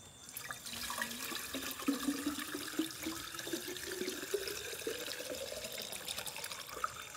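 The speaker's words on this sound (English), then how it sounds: "you fill it with water to the brim" Water is poured steadily into the priming hole of a water pump before its first start, a continuous close splashing gurgle with a slowly rising pitch as the chamber fills toward the brim.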